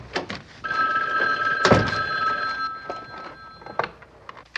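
A telephone rings indoors in a home, a loud bell-like trill sustained for a couple of seconds, with a thump and some household clatter around it and no speech.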